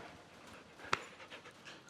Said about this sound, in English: Here's a dog.